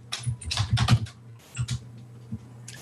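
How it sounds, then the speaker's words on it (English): Someone types on a computer keyboard, close by, in short bursts of rapid clicking keystrokes separated by brief pauses, ending with a few isolated key taps; no talking. "So I'll type it in the Zoom and in the chat."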